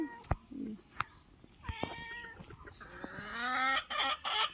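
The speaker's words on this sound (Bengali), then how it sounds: "আর ওদিকে বিড়াল দেখো ম্যাও ম্যাও করছে ও মাছ খাবে" A cat meows several times, drawn-out wavering cries, wanting fish being cut, while chickens cluck nearby and a few sharp knocks sound in between.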